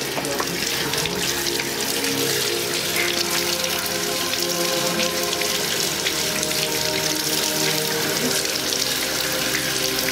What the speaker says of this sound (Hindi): हाँ धो लीजिए दायां पाँव पहले उंगलियों की जानिब से।